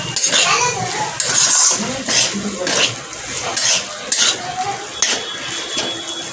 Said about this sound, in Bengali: এদিকে হচ্ছে চিংড়ি মাছের দো পেঁয়াজি টাটকা টাটকা চিংড়ি এনেছে